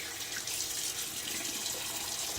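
Water runs from a tap into a sink while someone wets their face before a shave, giving a steady, close splashing rush with no talking.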